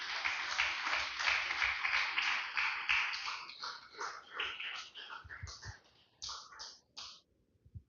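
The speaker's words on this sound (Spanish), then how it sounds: "Denle un fuerte aplauso al Señor, aleluya." A church congregation claps strongly in praise, dense applause that thins into scattered individual claps and fades out toward the end.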